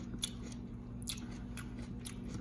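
Crisp, close crunches sound as someone bites into and chews a homegrown yellow bell pepper, a few sharp snaps spread over a quiet steady background with no talking.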